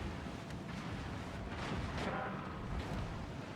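Naval gunfire from an Austin-class ship in the World of Warships naval battle game, a steady rumbling barrage of distant booms and shell impacts that swells slightly midway and holds without a break.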